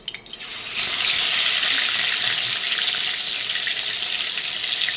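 Fish sizzles loudly as it drops into hot oil, a sudden burst of broadband frying that starts after a brief quiet and holds steady and close.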